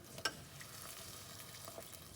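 Quiet, continuous sizzling of gujiya pastries frying in oil, with a brief sharp pop near the start.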